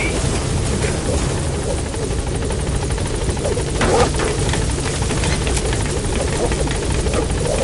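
A helicopter in Metal Gear Solid 5 flies in toward a landing zone, its rotor chop a steady, loud, close drone that fills the whole stretch with a slight swell near the middle and no voices.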